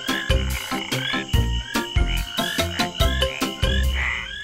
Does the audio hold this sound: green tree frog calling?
yes